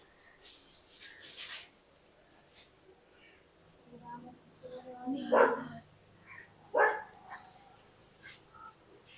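A dog standing in water barks a few times, with short, separate bursts amid scraping and rustling noises nearby.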